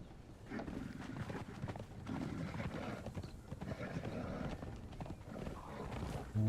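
Horse hooves running in the video game Conan Exiles, a steady, fast clip-clop rhythm that carries on throughout at moderate volume with a muffled, windy rumble.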